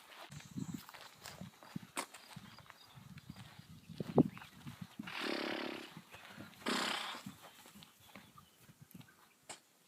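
Horse hooves thud and shuffle amid scattered knocks, with a couple of bursts of rushing noise and a faint whinny-like cry in between.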